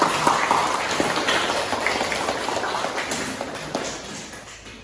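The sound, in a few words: applause from the class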